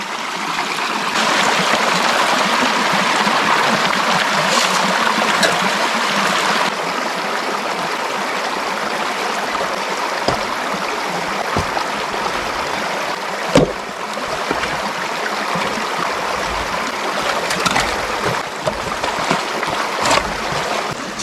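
Water flowing through a dammed pool at a gold-prospecting dig, a steady close rushing and gurgling stream with scattered splashes and small knocks throughout.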